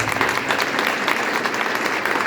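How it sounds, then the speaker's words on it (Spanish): A dense burst of clapping from a conference audience, steady and loud throughout. "un aplauso bien grande a Patricia Gordon."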